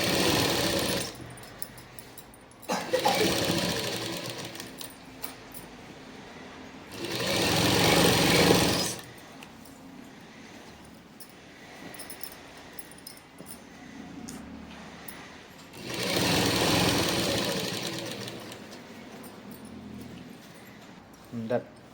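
A sewing machine stitches a seam on a Punjabi dress in three loud bursts, each a few seconds long, with quieter stretches between them that carry a low background hum.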